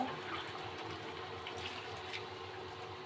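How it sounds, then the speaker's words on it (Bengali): Water is poured into a cooking pan of simmering boti curry. It makes a faint, continuous splashing rush that lasts the whole stretch without a break. "অল্প করে পানি দিয়ে দেব"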